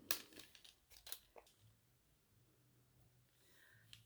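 Scissors snip the edges of a small paper ATC card, a few quick close cuts and paper rustles in the first second and a half, then near silence, all quiet.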